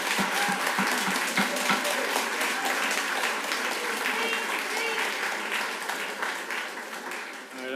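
Applause breaks out among attendees at a county council meeting: a few sharp distinct claps at first, then a broad continuous rattle of many hands, with a voice talking over it as it fades.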